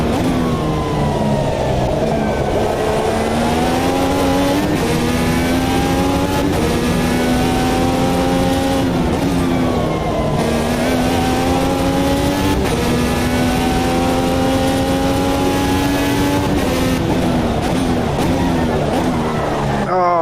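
An IndyCar race car in Automobilista 2 screams through repeated upshifts and downshifts, its loud engine pitch climbing and dropping under braking, continuous and close.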